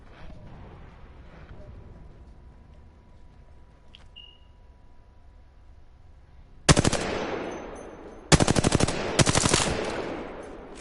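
Scoped rifle shots in a video game: a lone faint ping over low ambient hum, then three loud, sharp bursts of gunfire, each ringing out and decaying.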